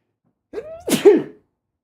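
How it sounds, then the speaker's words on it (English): A single close, loud human sneeze with a sharp inhaled buildup and an explosive burst, followed by silence. "I'm going to sneeze."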